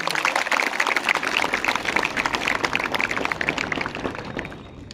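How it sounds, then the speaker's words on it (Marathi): A crowd at an International Yoga Day gathering at a college in Jalgaon claps for Prime Minister Narendra Modi, a dense, lively burst of applause that carries on steadily and fades slightly toward the end. "आपण एक वेळा आपल्या देशाचे पंतप्रधान नरेंद्रभाई मोदी यांच्यासाठी टाळ्यांचा गजर करूया"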